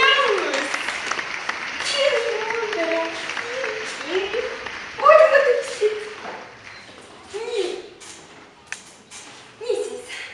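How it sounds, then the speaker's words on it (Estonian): A studio audience applauds a guest's introduction on an Estonian-language talk show, the clapping rising as a broad wash beneath a presenter who keeps speaking over it. "Aplaus!"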